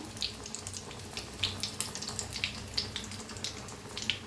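Capsicum pakoras in gram flour batter are dropped into hot oil and fry with a steady, close bubbling hiss and scattered crackling pops, with no talk.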